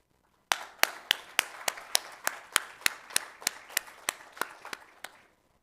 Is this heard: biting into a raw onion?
no